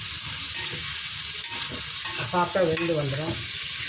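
Onion and tomato sautéing in oil with rock salt over a low flame, a constant close sizzle with stirring, and a brief voice-like tonal sound partway through.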